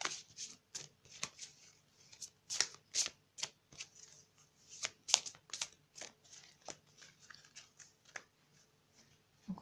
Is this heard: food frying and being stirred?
no